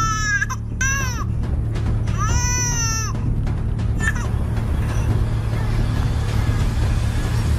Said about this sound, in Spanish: Uy, bebé llorando.